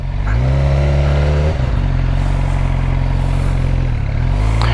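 A Suzuki super sport motorcycle engine runs loud and close, holding a steady revving drone that dips briefly and then climbs again, with no voices.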